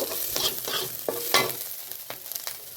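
Julienned capsicum is sautéed in a pan for schezwan paneer noodles. A gentle sizzle runs under irregular stirring scrapes and spatula taps, close and moderately quiet, with no voices.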